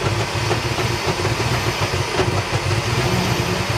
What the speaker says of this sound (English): It's not firing in all cylinders.